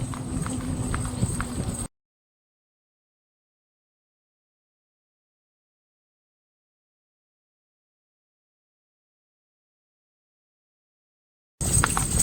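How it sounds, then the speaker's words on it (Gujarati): A mare's hooves clip-clop steadily for about two seconds, then everything drops to silence before a short burst of hoofbeats returns at the very end. "તમે ડાબાનો અવાજ સાંભળી શકો છો"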